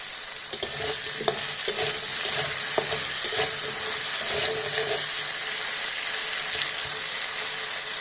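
Potatoes frying with salt in a pan give off a steady, close sizzle, with light scrapes and clicks of stirring near the start.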